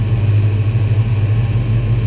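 The engine of a 1993 Ford Mustang Cobra runs steadily after a starter repair, a loud, even low rumble close by with no other sounds.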